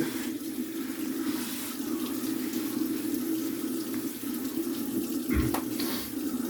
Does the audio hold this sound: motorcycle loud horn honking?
no